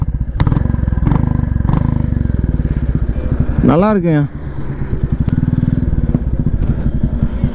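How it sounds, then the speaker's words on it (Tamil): Royal Enfield Classic 350 motorcycle idling with a deep, steady thumping exhaust beat close by, while someone speaks briefly over the engine partway through. "exhaust sound"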